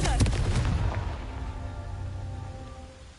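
The Confringo blasting spell in a Harry Potter video game bursts as a single loud explosive boom with a crackling onset, then fades into a rumbling decay.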